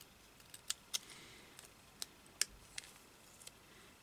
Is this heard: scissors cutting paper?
yes